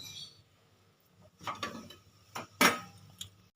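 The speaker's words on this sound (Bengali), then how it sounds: "পনেরো মিনিট হয়ে গেছে ঢাকাটা খুলে দেব" A metal lid is lifted off a pot of steamed bati bhapa pitha after fifteen minutes on a medium gas flame, giving several quiet clinks and scrapes, one sharper metallic clank among them, with no talk.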